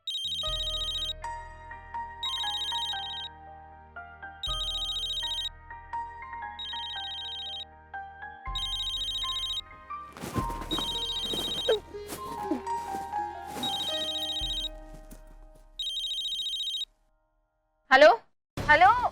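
A telephone rings repeatedly at night in regular electronic bursts, then music and a louder flurry of tones join in, with people talking near the end.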